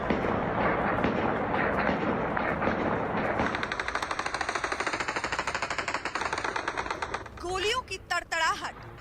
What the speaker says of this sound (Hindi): गोलियों की तड़तड़ाहट, आसमान की तरफ AK-47 के मुंह